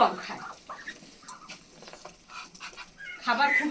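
Chinese ducks at a home farm, giving short, close bursts of quacking and chattering calls, with one louder cluster toward the end and quiet gaps between.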